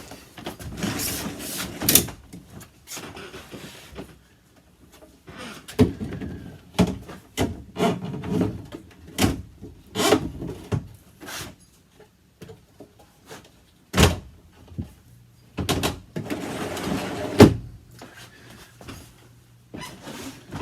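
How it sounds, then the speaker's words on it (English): Wooden drawer on installed drawer sliders in a camper van conversion being dropped into place and slid in and out, giving clunks, sharp knocks and short rolling runs separated by quiet pauses, close and distinct. "So we'll drop that drawer in and we'll show you guys how it works."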